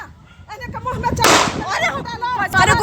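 Gunshots fired during a shooting in Buxar, India: a couple of sharp, loud cracks ring out amid agitated shouting voices close by.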